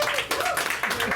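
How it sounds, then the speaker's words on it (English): A comedy show crowd gives a short round of applause, a fairly soft wash of clapping with some voices mixed in underneath. "give me a round of applause if you're familiar with the anime Dragon Ball Z"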